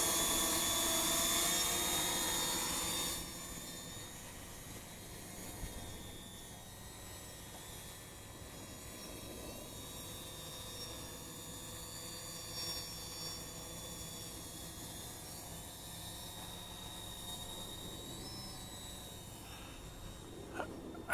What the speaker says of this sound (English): I just want to keep track of that helicopter.